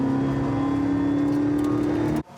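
An engine sound plays loud inside the cabin of a Toyota 86 converted to an electric motor with a rear-mounted battery, mimicking an 86 with a sport muffler. A steady drone holds, then cuts off abruptly.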